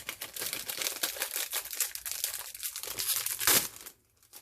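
A small card-format packaged item is opened by hand, its plastic wrapping crinkling and tearing in dense close bursts, with a sharp rip near the end before it falls quiet.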